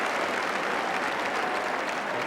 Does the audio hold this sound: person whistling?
no